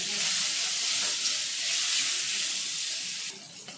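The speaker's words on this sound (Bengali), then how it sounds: "চিংড়ি মাছগুলো ভেজে নেব" Prawns sizzling in hot mustard oil in a pan, a steady loud frying hiss that holds evenly throughout and eases slightly near the end.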